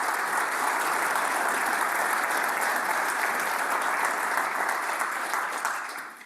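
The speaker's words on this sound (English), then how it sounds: "Can we actually just have a round of applause for Jen there?" Sustained applause from a conference audience for a speaker, dense and steady throughout, fading slightly at the very end.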